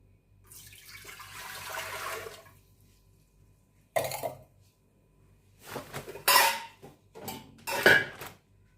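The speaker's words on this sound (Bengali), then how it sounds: "এরপর আমি এতে জল দিয়ে নিই" Water is poured into a pot holding ground mustard and poppy seed paste, a splashing stream lasting a couple of seconds. Quiet gaps and several short clanks and rattles of cookware follow.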